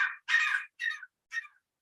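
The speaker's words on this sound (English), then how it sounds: "So the bird has decided to sing for us this morning." A bird outside the door in the morning gives four harsh, cawing calls in a steady series, each separated by a short pause. The calls are fairly close and stand alone with no talking.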